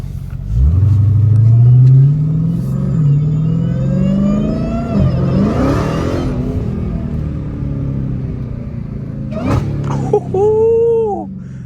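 A Dodge Hellcat's supercharged V8 roars through a hard rev, then drops with a downshift, its pitch rising and falling loudly up close before the engine settles into a lower rumble with a brief burst near the end.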